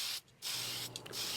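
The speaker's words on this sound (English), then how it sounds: "the Semi-Gloss Clear is going onto the parts just like all of the other spray lacquers we've used, in long, even coats" Semi-gloss clear lacquer hisses from an aerosol can onto model rocket parts in an improvised paint booth, a steady close spray broken by a brief pause and a few short gaps near the end.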